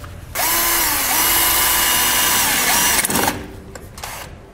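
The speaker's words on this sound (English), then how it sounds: "I'm going to be using a drill and a step bit" A power drill with a step bit whines steadily at high speed while cutting plastic, then slows and stops with a few short bursts and rattles near the end.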